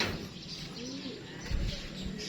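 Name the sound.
racing pigeons cooing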